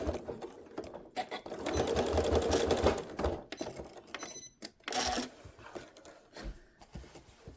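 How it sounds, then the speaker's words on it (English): A sewing machine back stitching lace onto a shirt, running in fast rattling bursts with short pauses between runs, close and clear with no talk. "we're just going to go right over top of those initial stitches and do a back stitch"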